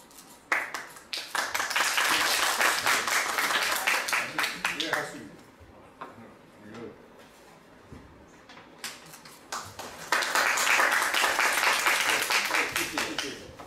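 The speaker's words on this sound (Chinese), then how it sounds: "我们再热烈掌声欢迎王老师。" Dense audience applause at a lecture on the editing of contemporary circulated Taoist scriptures bursts out loud for about four seconds, dips to quieter room sound with talk, then swells into a second strong round of clapping.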